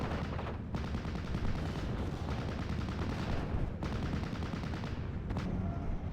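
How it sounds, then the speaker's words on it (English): Indirect artillery fire in a war video game, with dense overlapping booms and bursts of gunfire rolling continuously through a battle, heard distantly without any voices. "Various indirect fire is laying into the area."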